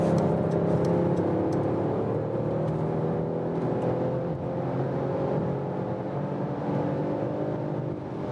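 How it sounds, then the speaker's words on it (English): A 2021 Mercedes E-Class All-Terrain engine pulls hard in Sport Plus mode from around 100 km/h, a steady loud rising drone heard from inside the cabin, continuous without voices. "let's go back to Sport Plus mode to have the biggest boost and once more acceleration from 100 kilometers up to"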